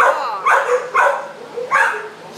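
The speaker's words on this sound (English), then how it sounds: "What a pretty little dog." A small female dog of about 35 pounds, newly arrived in an animal shelter, gives three or four short, high, whining yips spaced about half a second apart, close to the microphone.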